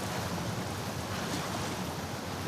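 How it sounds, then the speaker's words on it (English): Steady, dense rush of a fast-flowing torrent of water in The Last of Us video game, a broad unbroken roar that holds at an even level throughout with no voices. "the player was faced with a fast-flowing torrent of water they couldn't cross"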